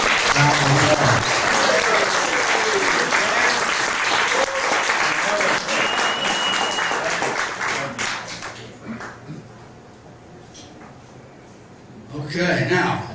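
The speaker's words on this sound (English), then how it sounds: "he deserves a very long round of applause." A long round of applause fills a class of 1961 fiftieth high school reunion, dense sustained clapping from a crowd that fades toward the end before a voice returns.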